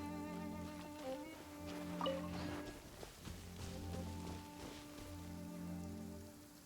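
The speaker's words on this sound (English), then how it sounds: "but it started raining." Soft, steady rainfall patters in Genshin Impact under sustained musical tones, faint and continuous across the whole stretch.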